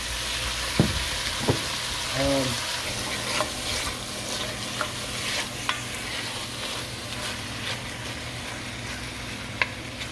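Beef browning in a Dutch oven for apple cider beef stew, a constant sizzle and crackle with a few scrapes and stirring knocks, close up and without speech.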